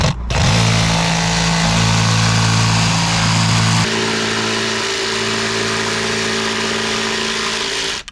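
Ryobi saw fitted with a new fine finish wood blade cutting plywood, a loud steady motor whine that shifts in tone partway through as the blade bites, with no talk.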